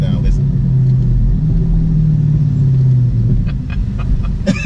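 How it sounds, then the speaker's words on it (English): A Dodge Charger Daytona 392 engine rumbles loudly and close as it downshifts while slowing, with a burbling, falling engine note and a few sharp blips near the end. "Now watch this downshift as I'm slowing down."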